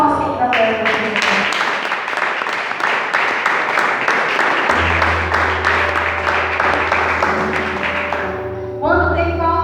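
Congregation clapping together during a church service for couples, rhythmic clapping over sustained music with keyboard and bass, ending as the music shifts.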